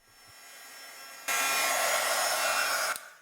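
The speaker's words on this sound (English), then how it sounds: "Then with the heat tool, I go ahead and I heat set this embossing powder." A heat tool blows hot air to set gold embossing powder on a card, switching on with a sudden loud, steady whoosh that holds for under two seconds and then cuts off.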